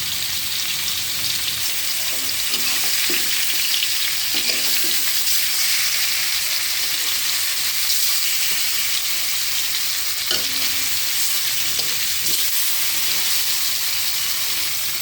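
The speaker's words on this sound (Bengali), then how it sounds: "মাছ ভাজা হয়ে গেছে" Spiced fish frying in hot oil in a wok, a loud continuous sizzle close by with occasional soft knocks from turning the pieces, with no talking.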